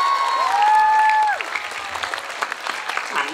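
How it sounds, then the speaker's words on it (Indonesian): At a lively religious sermon, a crowd claps for students and clerics, scattered claps rising after a fading sustained tone, continuing in an uneven patter with some cheering voices mixed in. "Tepuk tangan santri dan kiai."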